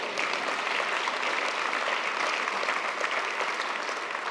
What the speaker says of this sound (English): You can applaud, it's fine.